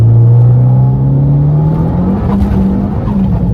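A big-turbo Abarth 595 accelerating hard, its engine note climbing steadily in a loud, close, rising drone with some tyre and wind noise, no talking.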